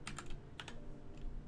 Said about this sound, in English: Where's the asterisk on my keyboard?